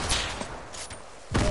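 Rapid bursts of gunfire from a video game shooter crackle close by, a few sharp clusters of shots with a heavy burst at the end and steady background game noise between them.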